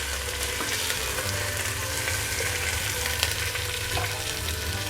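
Chicken pieces fry in a pan for soup, a steady dense sizzle with occasional stirring scrapes running without pause, close and fairly loud, with no talking.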